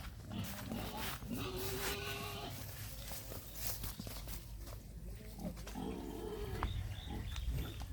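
Pigs grunt and snort in irregular bursts at moderate distance, over a noisy outdoor background with faint movement and occasional distant voices, near a farm hut.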